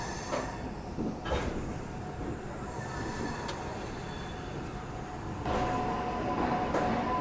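Lucknow–Chandigarh Express, a packed daily train, rolling at Ambala Cantt railway station: steady close rumble of wagons with faint wheel squeal and clatter, swelling louder near the end, no talk.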